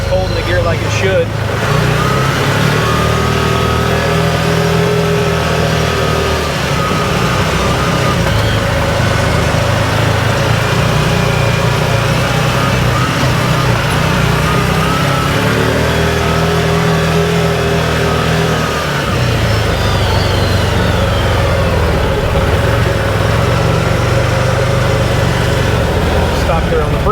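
An Odes Dominator 1000cc X4 LT UTV engine runs loud and close, idling and revving in surges as gears are shifted and the clutch engine-brakes, while someone talks over it.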